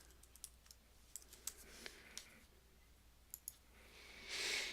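Keys tapped on a computer keyboard while entering words into spreadsheet cells, a sparse string of soft separate clicks close by, ending in a brief louder rustle.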